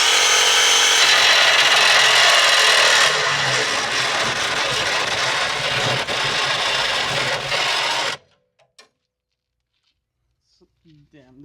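Power saw with a dull blade cuts through damaged body panels on a Mazda Miata: a loud, steady grinding rasp for about eight seconds, then it cuts off abruptly, leaving near silence with a few faint clicks.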